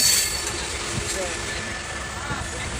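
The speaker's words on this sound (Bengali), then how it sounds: "তো আমাদের ট্রেন ছেড়ে দিয়েছে" A train pulls away from a station platform with a steady, broad rumble of rolling wagons that holds an even level throughout, while voices are faintly present in the background.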